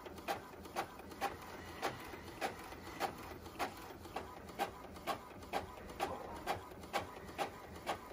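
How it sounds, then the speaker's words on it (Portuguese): A printer printing a document, its print head making regular rhythmic clacks about twice a second over a quiet mechanical whir, close up with no talking. "Agora eu venho aqui na impressora."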